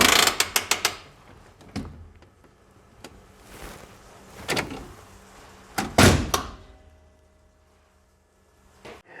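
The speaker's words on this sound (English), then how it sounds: "This lets me see the parking brake operation as well." A 1985 Ford F-150 parking brake is worked: quick ratcheting clicks at the start, then several separate clunks and a loud mechanical release near the end, close up with no talking.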